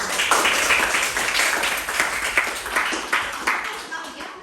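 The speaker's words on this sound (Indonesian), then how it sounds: "tepuk tangan dulu buat" A school class claps together in a classroom, steady rapid hand clapping from many people that continues for several seconds with slight rhythmic surges, fairly close and loud.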